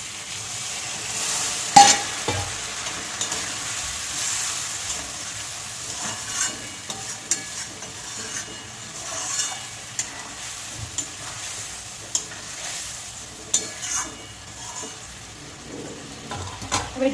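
Eggs and water go into a pan of well-fried spices, setting off a steady sizzle and bubbling that runs throughout, broken by occasional clinks and scrapes of a utensil against the pan.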